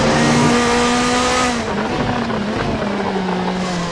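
A formula race car in a sim racing game at Vallelunga howls at full throttle with a steady high-pitched engine tone, then briefly dips in pitch midway before climbing again, loud and continuous.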